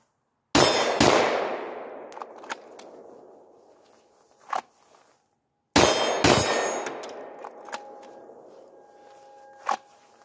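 Two Glock 17 pistol shots fired outdoors, each a sharp loud crack followed by long decaying ring, with later metallic pings as the steel plate target is struck and rings.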